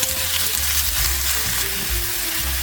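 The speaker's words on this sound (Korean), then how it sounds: "이제 예열된 팬에 오일을 살짝만 둘러주고 고기를 볶아주세요" Skin-on pork hind leg stir-frying in a preheated pan with a little oil, a loud continuous sizzle and crackle heard up close with no one talking.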